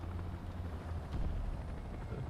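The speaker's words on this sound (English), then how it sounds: "Looks like there is an enemy helicopter in play." Enemy helicopter in the War Thunder tank battle game, a steady low rotor drone and rumble running throughout, fairly loud amid game engine noise.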